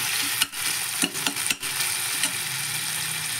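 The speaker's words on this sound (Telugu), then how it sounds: "తర్వాత టమాటాలు వేసి ఫ్రై చేయాలి" Tomatoes fry in a hot pan for a fish curry, giving a steady loud sizzle broken by a few sharp scraping stirs of a utensil against the pan.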